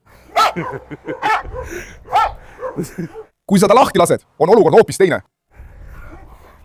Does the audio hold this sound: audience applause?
no